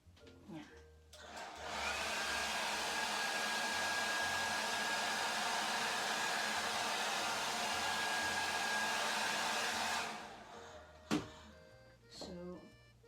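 A hair dryer blows on a slab-built ceramic whale soap dish, a steady loud whir that runs for about eight seconds before cutting off, followed by a couple of brief handling knocks.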